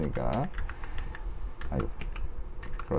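Computer keyboard keys tapped for a Ctrl+Space autocomplete shortcut while coding, several crisp close clicks in short bursts mixed with quieter keystrokes, with a voice faintly audible in the background.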